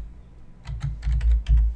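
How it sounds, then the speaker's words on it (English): A computer keyboard is typed on up close, a quick run of about eight soft key clicks after a brief quiet start. "So if I type the word meeting"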